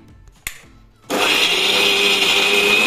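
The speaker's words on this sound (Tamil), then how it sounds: "இப்போ 3 பல் பூண்டு போட்டு மொத்தமா அரைக்க போறீங்க." A kitchen mixer grinder grinding garlic cloves and spices for an egg curry masala: a faint knock, then the motor kicks on to a loud, sustained high whine that runs steadily to the end.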